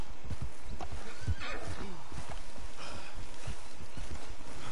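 A horse whinnies in Red Dead Redemption 2 amid a busy, steady background with low thumping sounds, like a game soundtrack or hoofbeats underneath.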